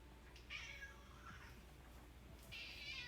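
A house cat meows twice from the background of a kitchen where waffles are being baked, two drawn-out cries about two seconds apart, fairly faint and unaccompanied by talk.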